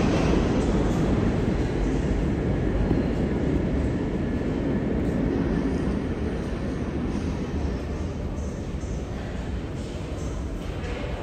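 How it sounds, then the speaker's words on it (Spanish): Subway train rumbling through Times Square station in New York, a loud, steady low roar of rolling rail cars and echoing platform noise filling the whole stretch without pause. "Estamos en la estación Times Square, que es como la estación central del metro"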